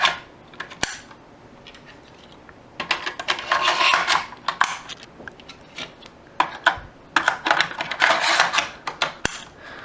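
Hard drives slotting into the bays of a RAID enclosure, giving a run of close, sharp plastic-and-metal clicks and clacks, some in quick bursts, with no talking.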